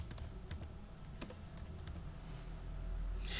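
Keys clack on a computer keyboard in an Arduino class, a quick run of scattered, close taps ending with an Enter press, then a brief rustle.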